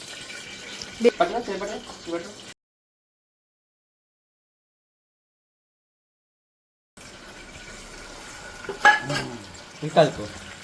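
Onions stirred in a pan while cooking biryani, with soft scraping and sizzling mixed under a person talking, broken by a stretch of complete silence in the middle.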